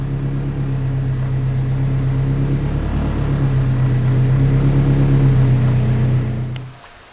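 A turbocharged SR20 engine in an old-school Datsun 510 roars steadily on a dyno, a loud sustained drone holding near the rev limiter for about six seconds before cutting off and winding down.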